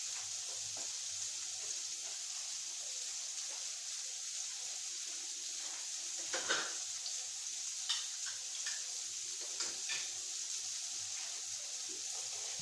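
Bread slices fry in a pan with a soft, steady sizzle, broken by occasional light scrapes and taps of a utensil against the pan in the middle and later stretch.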